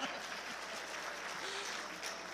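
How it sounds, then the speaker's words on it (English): A few people clap briefly in a church service, a thin scattered patter of applause lasting a couple of seconds against a roomy background hiss. "Thank you for the few claps."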